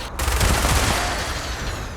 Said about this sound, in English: Explosive minigun, go!